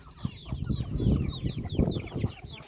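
Several chickens clucking close by as a dog chases them, busy overlapping calls with a rough, agitated rhythm and some flapping noise.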